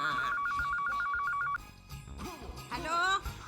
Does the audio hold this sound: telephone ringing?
yes